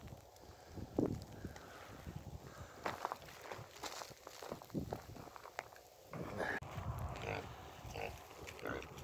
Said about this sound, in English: Got the pigs checking me out.